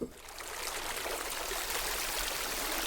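A Babbling Brook synthesizer patch from OmniChill produces a steady rushing, trickling water texture, broadband and continuous after a brief onset, moderately loud with no talking.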